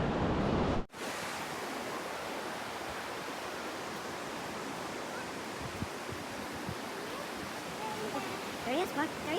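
Ocean surf at a beach in Carpinteria, California gives a steady broadband wash of waves. After an abrupt start the noise runs continuously, with faint voices in the background near the end.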